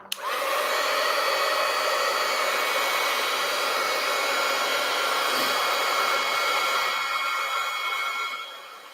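A hair dryer blowing steadily on a craft project, a loud continuous whir that starts abruptly, holds for about eight seconds and then cuts off, with no talking over it.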